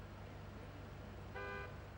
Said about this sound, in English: Sound the horn.